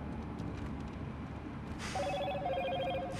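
A telephone rings as an outgoing call: a low background murmur comes first, then repeated electronic ringback tones sound clearly and evenly for the last second or so.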